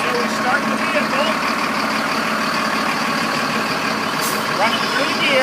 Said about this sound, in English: So we start the vehicle